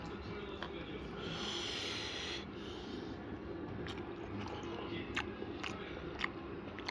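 Close-up chewing and crunching of spicy Korean ramen-style food with rice, wet bites and mouth sounds in an uneven rhythm, with a soft breath or snort now and then.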